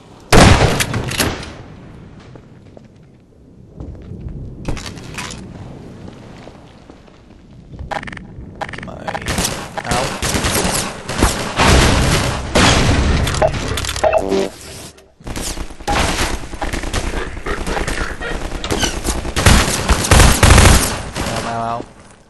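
Gunfire rattles through Half-Life 2 Lost Coast gameplay: bursts of rapid automatic shots and sharp cracks, loud and near, broken by a brief quiet at the start and a sudden cut midway, with game sounds around them.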